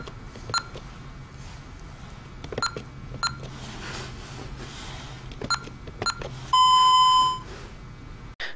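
Alarm system control panel keypad being programmed for an exit delay, with short scattered button beeps spaced through the clip, then one longer, louder confirmation tone near the end, heard close up with no talking.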